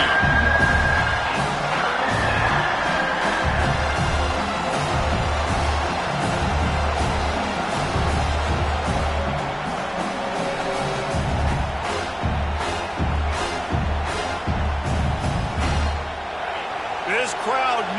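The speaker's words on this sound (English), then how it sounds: "This crowd knows when to bring it." A football stadium crowd roars and cheers loudly and steadily throughout, with scattered shouts and whoops, while a commentator talks over the noise.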